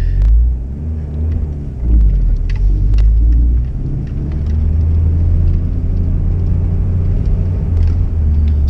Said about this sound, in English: I'm gonna keep the revs low because she's an old girl.